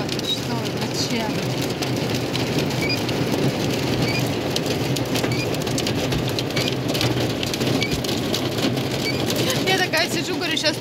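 Heavy rain and hail pound steadily and loudly on surfaces outside an open window during a storm in Israel, a dense unbroken patter with occasional harder hits throughout.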